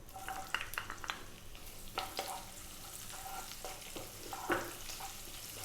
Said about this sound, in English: We're just gonna let those cumin seeds do their thing in the oil for a few seconds.